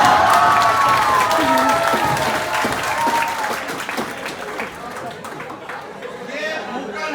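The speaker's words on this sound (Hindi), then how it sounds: "जिस हिसाब से मेरे बच्चे ने ये ताली बजाई है ना, इसका कैरियर सेट है।" A child claps along during a playful Holi celebration at home, the applause continuous and close, mixed with crowd chatter and voices throughout.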